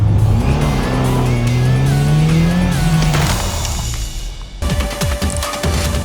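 A manual 2023 Subaru WRX driven flat-out with traction control off on a dirt race track, its engine revving and rising through the gears with tire scrabble and skidding, loud and close, then a sharp shift to rougher gravel noise near the end.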